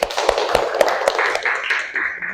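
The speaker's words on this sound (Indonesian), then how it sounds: "Kasih tepuk tangan dulu." Classroom group clapping for three student winners, a burst of scattered claps with sharp hand strikes early, thinning into softer patter toward the end, close and moderately loud.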